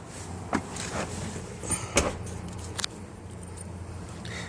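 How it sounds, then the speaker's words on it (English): Keys for a 2002 Chevrolet Venture van jingle and clink in several short bursts close by, with faint rattling between them and no talking. "we just have this one key for it."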